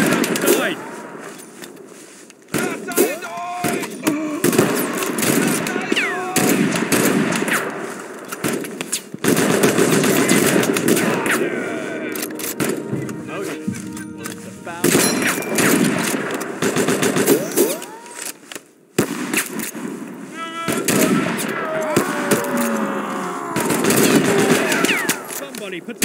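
Sustained machine-gun bursts and rifle shots fill a battle in the video game Mud and Blood, loud and nearly continuous with brief lulls, mixed with shouted voices.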